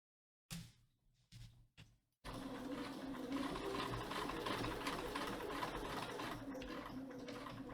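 Sewing machine running steadily while top stitching, a continuous close mechanical whir lasting several seconds after a few short stop-start bursts.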